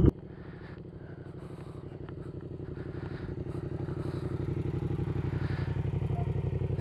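A Yamaha MT-07 motorcycle engine runs with a throbbing, pulsing exhaust note that grows slightly louder and steadier as the throttle is opened, close by, after a brief knock at the start, with no talk.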